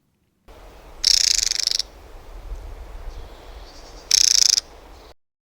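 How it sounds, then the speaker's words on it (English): Two short, loud, harsh rattling bursts from a mistle thrush giving its warning call, separated by a few seconds over quiet outdoor background at a smallholding. "that sounds a bit like a missel thrush when that's giving its warning call"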